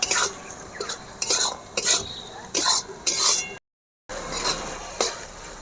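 Spices fry in a pan for chicken Patiala gravy while a spoon stirs them in quick, rhythmic scraping strokes, close and clear, with a short silent break partway through and no talking.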